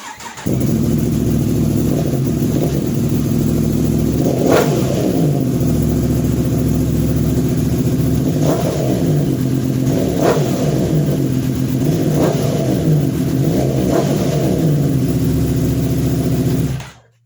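An old vehicle engine catches abruptly and settles into a loud, steady idle, with the throttle blipped into several rising revs spaced a few seconds apart before the engine cuts off at the end.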